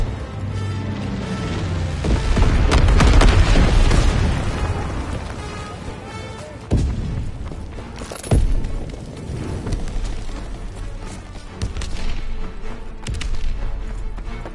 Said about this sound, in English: Low altitude bomber inbound. Incendiary mission commenced.